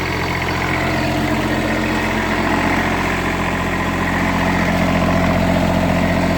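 A big car engine idles steadily after a winter cold start, with ice on the exhaust, giving a constant loud rumbling drone from close by with no talking.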